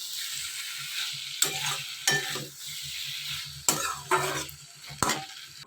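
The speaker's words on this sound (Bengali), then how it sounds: "জলটা দিয়ে ভালো করে কষাচ্ছি মশলাটা" Spice masala with water is stirred and fried in a pan for a lati dish, giving a quiet sizzle punctuated by several distinct scraping strokes of a spoon against the pan.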